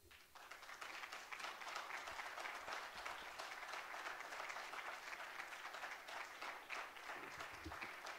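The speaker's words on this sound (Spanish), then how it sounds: "Un fuerte aplauso para su presentación." An audience at an academic seminar on the 500 years since Magellan's circumnavigation applauds after a presentation, sustained even clapping from a crowd in a hall, rather faint, lasting several seconds.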